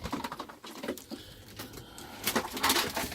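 Young racing pigeons in a loft coo and flutter softly, with scattered wing patter and low murmuring calls at moderate distance, no speech.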